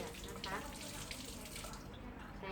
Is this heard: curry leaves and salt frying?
no